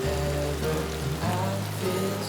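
Rain falls on a gloomy October autumn day, a soft steady patter spread evenly across the clip with no voices.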